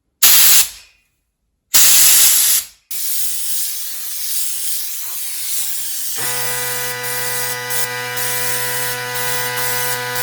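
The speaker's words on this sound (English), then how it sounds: "insert it into a paint gun can, and spray the mixture all over the fender surface" A paint gun sprays a wax and bitumen anti-rust compound onto a car fender, giving two short loud hissing bursts and then a longer steady spray hiss joined by a constant mechanical hum.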